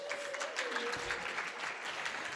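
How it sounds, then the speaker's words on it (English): Graduating class at a speech pathology hooding and pinning ceremony applauds themselves, a steady, dense round of clapping from a crowd in a hall, even and sustained, with a faint voice briefly underneath. "give yourselves a round of applause"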